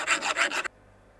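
A metal file worked on a bicycle part in a few quick rasping strokes that stop abruptly, loud and close, with no talking.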